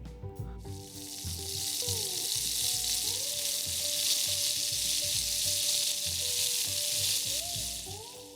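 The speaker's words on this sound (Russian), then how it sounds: "под приятное шипение кипящего масла перемешивается с запахом" Meat frying in hot oil in a pan over a campfire in a snowy winter forest, a loud, steady sizzle with occasional scraping and stirring, no voices.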